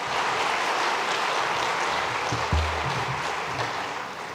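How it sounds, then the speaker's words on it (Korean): A church congregation stands and gives a welcoming round of applause during a Sunday service, a dense, continuous wash of many hands clapping at even loudness that slowly tapers off. "우리 잠깐 자리에 일어나시면 우리 환영의 박수 올리도록 하겠습니다."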